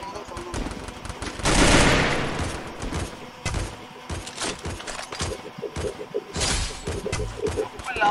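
Gunfire in a mobile battle royale game during a tournament match, rapid bursts of automatic fire and louder blasts mixed with thuds, over players talking.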